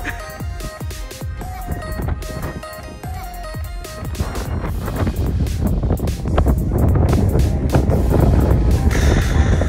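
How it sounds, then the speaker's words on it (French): Strong wind buffets the microphone at a wind farm with a loud, rumbling roar that grows heavier toward the end, broken by gusty bursts. "C'est juste que le vent est énorme"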